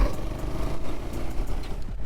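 A Honda FTR 223 motorcycle engine runs close by, its steady low rumble dipping and surging as the rider shifts down a gear.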